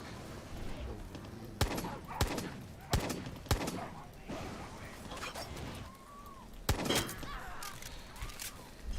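Gunfire in Far Cry 6, a series of sharp single shots spaced about a second apart over a busy game background, with people talking throughout.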